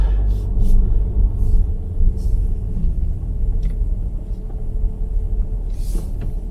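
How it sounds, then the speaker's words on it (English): Low engine rumble of a car slowly manoeuvring up to the back of a caravan, steady and close, with faint scuffs and clicks over the idle. "So now I'm going to just maneuver the car to the back of the caravan"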